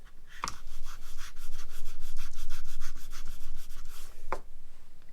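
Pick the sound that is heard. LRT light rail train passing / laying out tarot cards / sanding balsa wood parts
sanding balsa wood parts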